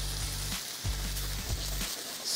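Eggs sizzling in hot oil in a pan for cauliflower fried rice, a steady faint hiss with a few soft clinks and low hum beneath, brief and without talk.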